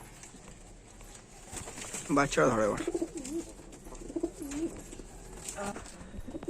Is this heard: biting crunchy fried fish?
no